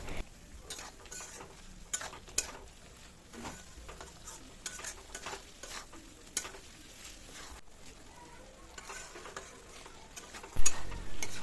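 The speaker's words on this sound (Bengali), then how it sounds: "এরপরে সব কিছু আবারও ভালো করে মিশিয়ে নিয়ে আরও কিছুক্ষণ ভালো করে কষাতে থাকবো।" Spice paste with ground cashews, thinned with a little water, is stirred in a pan, soft sizzling under repeated scraping spoon strokes and occasional clinks of metal, heard close with no talking.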